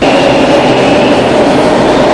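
A subway train roars loud and steady close by, with a constant rumbling rush and a faint high whine on top, no voices.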